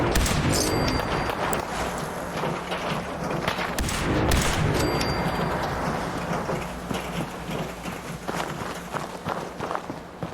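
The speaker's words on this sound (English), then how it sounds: "They're shooting at something." Gunfire in Fallout 4 VR, bursts of automatic shots mixed with running footsteps and clatter, dense and loud early then thinning, no talk over it.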